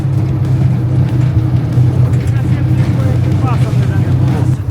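A Forte ATV-300BS-T 4x4 quad bike drives across open fields, its engine droning steadily and close with a strong low hum and slight rises in pitch.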